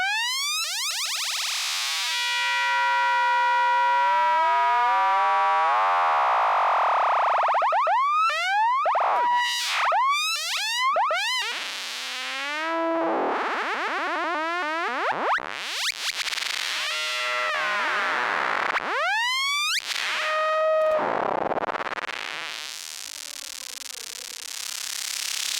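A Radical Frequencies DPVCO synth oscillator fed through reverb or delay, sweeping and warbling in loud siren-like glides and chirping bursts with long ringing tails, continuous and close with no voices.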